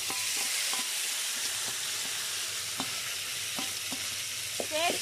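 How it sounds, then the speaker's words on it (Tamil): Curry leaf chutney sautéing in hot oil after a tempering of mustard seeds and dried red chillies, a steady broadband sizzle with occasional soft crackles and spatters, close and continuous with no talk. "சேர்த்து 2 நிமிஷம் வந்து இந்த எண்ணெயில் வதக்கி விட்டுருக்கலாம்"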